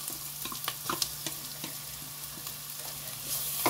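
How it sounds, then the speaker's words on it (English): Garlic and ginger sizzling with onions in a pan, a soft continuous fry with scattered scraping and stirring taps, no talk. "I'll add in the garlic and the ginger."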